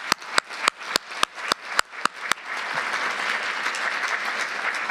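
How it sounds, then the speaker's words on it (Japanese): A lecture audience at an open event in Japan applauds: a few distinct, evenly spaced claps ring out first, then swell into steady, dense applause from many hands that fills the rest. "拍手お願いします。"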